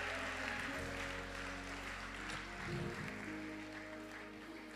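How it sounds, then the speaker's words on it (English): A church congregation claps together in a sustained ovation that forms a dense, steady wash of applause, with an organ or keyboard holding tones underneath. "give God one more ovation, clapping your hands"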